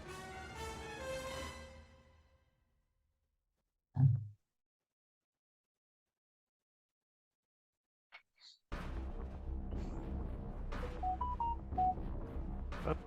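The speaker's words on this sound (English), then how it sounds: "I have a new phone and I haven't changed all the noises yet." A new Galaxy phone plays its default notification tones: a short electronic chime, then a few faint blips, before a busier jingle of bright beeping notes runs over a low hum to the end.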